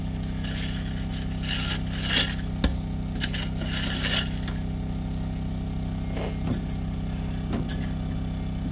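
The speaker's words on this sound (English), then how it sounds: "You can hear my generator in the background" A generator drones steadily in the background at a tiny house build site, a constant low hum under occasional nearby metallic clinks and scrapes.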